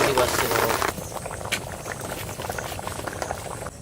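Mutton curry in a pot bubbles and sizzles right after water is added, a loud hissing burst at first that settles into a steady, close crackling simmer.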